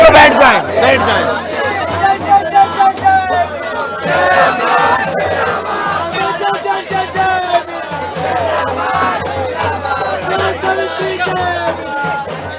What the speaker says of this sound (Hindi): देखिए भीड़ अभी भी मौजूद है